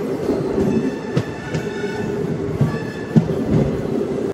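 A DEMU train runs on the Nandyal to Kurnool line, a steady close rumble with rhythmic wheel clacks and occasional sharper knocks, no talking.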